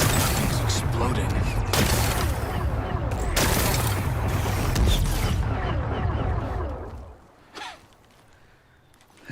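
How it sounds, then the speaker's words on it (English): Rock-blasting explosions in Horizon Forbidden West, a dense run of heavy booms and crackling blasts with scattered bursts over several seconds, then fading to a quieter rumble with one final short burst. "Gotta blast away some rocks, so I can expose the power cell."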